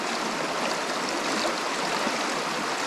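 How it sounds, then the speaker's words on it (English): Gold panning in a stream gives a steady, close rush of running water, with the swish of the pan lost in the continuous flow. "I'm panning with my opposite hand so that you guys on camera can see it"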